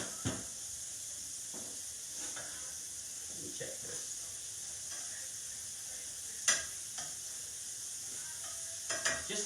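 Shrimp sear in a hot pan with a steady, bright sizzle that hisses continuously throughout, punctuated by a few sharp clinks and scrapes of stirring.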